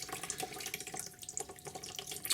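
Fresh flush water drains from the coolant system of a 2009 Honda CBR1000RR motorcycle, splashing and trickling unevenly in a steady patter, fairly close, with no talking.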